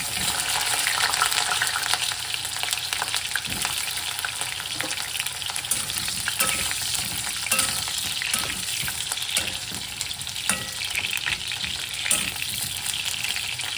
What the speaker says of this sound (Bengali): একটু আমি আলুটা হালকা করে ভেজে দেবো।